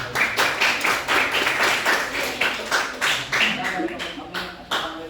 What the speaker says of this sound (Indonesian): Oke, kasih tepuk tangan dulu dong.